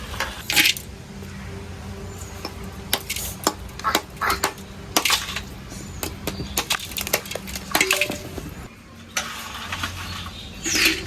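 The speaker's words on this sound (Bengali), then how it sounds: "মাটির হাঁড়িতে বরফের টুকরোগুলো দিয়ে দেবো এবার।" Pieces of ice being dropped by hand into a clay pot to set kulfi without a fridge, giving a series of close, sharp clinks and hard knocks at irregular intervals with short pauses between handfuls.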